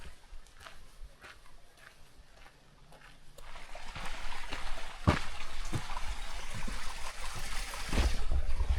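Creek water flows steadily beneath a small footbridge in Great Sand Dunes National Park, a broad trickling wash that swells louder midway through, with a few scuffing steps near the water and no talking.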